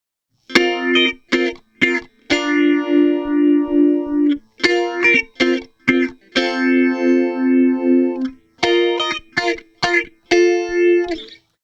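Electric guitar playing chords with a phaser effect, its tone sweeping and swirling in slow motion; loud, close, played alone in rhythmic strummed bursts.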